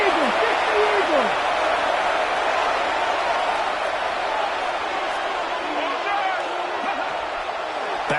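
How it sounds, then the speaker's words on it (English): A roaring stadium crowd at a video game American football rivalry game between Oakland and St. Louis gives a steady, loud wash of noise, with play-by-play commentary talking over it throughout. "this crowd making it hard to hear"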